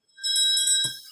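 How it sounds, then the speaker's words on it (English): Single bell rung in a pub to mark a drinks round, one bright ring with a steady high tone lasting about a second, sounding alone and close. "that's our first bell"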